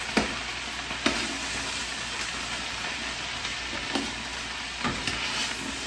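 Cabbage with a little oil sizzling in a pot over medium heat, a steady frying hiss broken by several sharp stirring knocks about a second apart, close, no talking.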